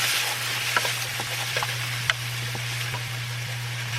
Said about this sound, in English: butter has melted, so I'm going to toss in my onion